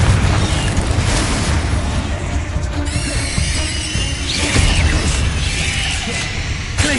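Confringo spell blasts in Hogwarts Legacy combat, loud booming explosions and crashing debris with squealing effects, layered continuously over several seconds of busy battle noise.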